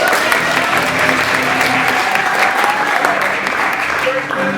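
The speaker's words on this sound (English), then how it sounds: "Round of applause for Alice." Holiday concert audience gives a performer a round of applause, a loud, even wash of clapping sustained across the whole stretch with some crowd voices mixed in.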